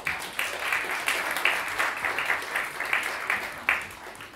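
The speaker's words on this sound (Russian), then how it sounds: "Ваши аплодисменты, друзья!" An audience at a children's jazz concert applauds a kora master with dense, continuous clapping, where individual claps poke through the steady crowd noise at a moderate distance.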